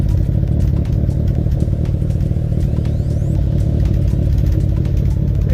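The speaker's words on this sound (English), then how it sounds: "It still idles a little bit high until that temp does come up" A 1991 Eagle Talon engine idles slightly high while still cold, a steady close rumble with a light clattery exhaust note from a leak near the resonator and center section, continuous with no voices.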